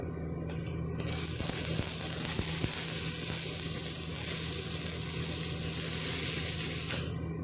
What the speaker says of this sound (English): I'm just making a weld completely around this rod